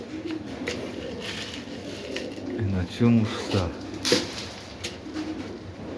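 Pigeons coo softly in a loft, with a few low, warbling calls rising over a continuous background hum while someone speaks briefly nearby.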